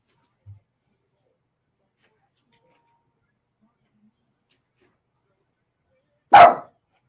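A single short, sharp dog bark rings out close by after several seconds of near silence, preceded by a faint low thump.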